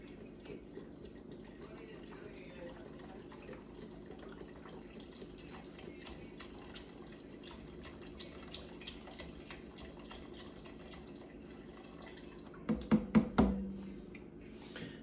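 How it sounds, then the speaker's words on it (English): Beef broth pours into a pot with a soft, steady trickle, faint and close, ending in a few louder splashy glugs near the end. "take a beef broth. We'll dump that in there."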